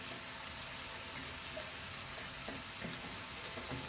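Finely cut cabbage frying in a wok for beef fried rice, a soft, continuous sizzle with faint stirring scrapes, steady and fairly quiet throughout.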